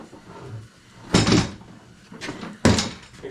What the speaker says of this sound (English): Now we can set our door aside for now.